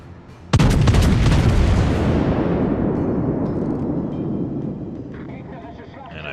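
Scharnhorst battleship's main guns firing in World of Warships, one sudden loud boom that rolls into a long, slowly fading rumble, with faint game sounds afterward.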